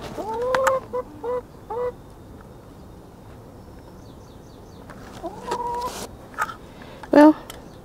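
Chickens in a garden give soft clucks and short calls in scattered bursts, fairly close, with quiet stretches between them.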